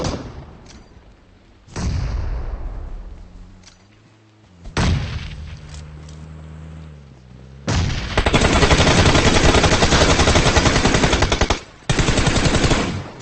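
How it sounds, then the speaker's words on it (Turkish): Gunfire and a grenade blast from a PUBG Mobile match: heavy booming bursts give way to long, dense rapid-fire volleys that are loud and close, with no voices over them. "ben direkt bombayı sallıyorum"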